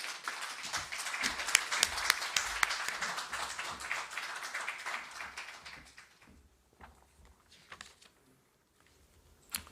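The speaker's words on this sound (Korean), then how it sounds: "여러분 큰 박수로 맞이해 주시기 바랍니다" Audience applause at a financial investor-education seminar, welcoming the financial services commission chairman to the stage: dense, steady clapping from a crowd for about six seconds, then tapering off into near silence.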